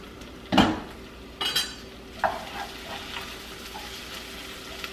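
A metal lid is set onto a cooking pot in a home kitchen, with a sharp clatter followed by a couple of lighter clinks that fade against a quiet background.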